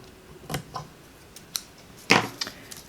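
Scissors snipping paper scraps for a herringbone card, a few separate crisp cuts close by, with the loudest snip near the end amid quiet handling noises.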